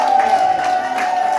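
A crowd at an RDPC political rally in Cameroon applauds and cheers, a dense, loud burst of clapping and voices with a sustained tonal whine running through it.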